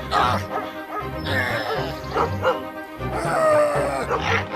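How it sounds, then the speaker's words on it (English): A shepherd's dogs barking at a wolf, several loud close yips and bow-wows in quick irregular bursts with whimpering in between, filling the whole stretch. "The dogs chased the wolf away and saved the lamb."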